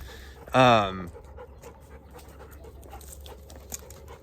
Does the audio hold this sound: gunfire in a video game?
no